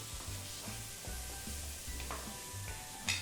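Chopped tomato with salt and turmeric fries in a pan, giving a steady close sizzle broken by the scrape of stirring and a sharp hiss near the end.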